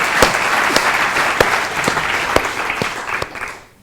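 An audience at an eloquence contest applauds a former mayor with a steady roll of clapping, a few loud individual claps standing out on top, fading toward the end.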